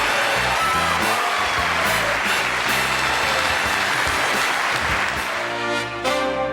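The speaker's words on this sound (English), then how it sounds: "I'm humbled by that applause" A television studio audience applauds loudly and steadily on a 1981 late-night talk show, a dense wash of clapping with faint whoops, with music playing underneath throughout.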